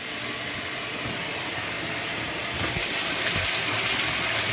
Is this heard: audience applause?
no